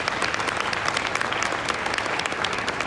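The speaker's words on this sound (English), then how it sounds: "So everybody, round of applause for our panelists." A conference audience at a panel on intelligence-community cloud strategies bursts into dense, steady applause for the panelists, many hands clapping together loudly and continuously without pause.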